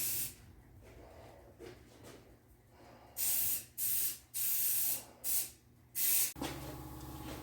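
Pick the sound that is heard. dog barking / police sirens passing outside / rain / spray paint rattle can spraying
spray paint rattle can spraying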